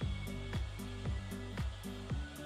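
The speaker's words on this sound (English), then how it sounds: "Don't mind the hairdryer." A hair dryer runs steadily in a workshop where a life-sized animatronic costume is being built, its constant whirring hum pulsing in a regular wobble about twice a second, close and alone.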